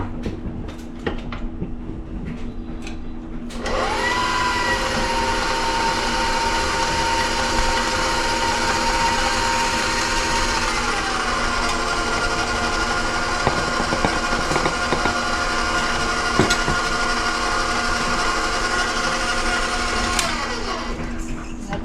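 An electric hand mixer whirs steadily while beating frosting with confectioner's sugar for fudgy brownies. It starts about a quarter of the way in, holds a loud, even motor hum with one shift in pitch, and runs to the end with no talking.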